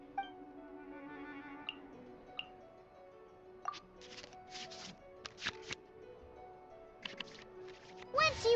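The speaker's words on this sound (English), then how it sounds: "we can select any number of cards in our hand to shuffle back into the draw pile" Card shuffling effects from the Genius Invokation card game in Genshin Impact, as cards go back into the draw pile: several short crisp swishes and clicks over steady game music, with a louder flurry at the end.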